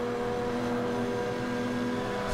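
A steady, droning engine hum from a rotary-engine car in the Need for Speed racing game, held at a constant pitch and fairly quiet, with no talking.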